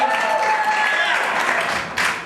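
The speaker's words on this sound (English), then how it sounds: "Clap your hands!" An improv show audience claps in a dense, fairly loud burst of applause that tapers slightly, with a voice over it at the start.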